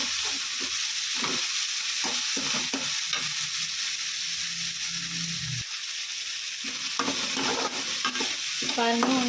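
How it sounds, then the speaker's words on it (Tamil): Onions and tomatoes sautéing in a pan with salt for chilli chapathi, a steady close sizzle with repeated scraping and stirring strokes of a spoon throughout. "பாருங்கள், வெங்காயம் தக்காளிலாம் நல்லா வதங்கி வருது."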